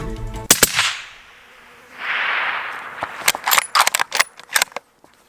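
A rifle shot at a sika deer cracks out as one sharp, loud report, followed by a short rushing echo and a run of close clicks and clatter, with no talk.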